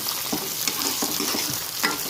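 Green chillies frying with ginger garlic paste for chicken biryani give a steady, close sizzle. Repeated scraping stir strokes cut through it at a loose rhythm, with no voices.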